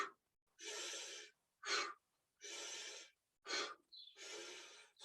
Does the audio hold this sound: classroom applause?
no